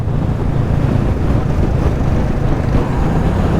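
A steady, low Royal Enfield motorcycle engine rumble drones on without a break, loud and close, with a faint rushing noise layered over it.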